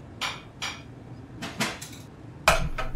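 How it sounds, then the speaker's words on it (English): Pots being banged together, several sharp metallic clanks and clatters spaced irregularly, close and distinct against a quiet background. "Banging pots together, pretending to cook."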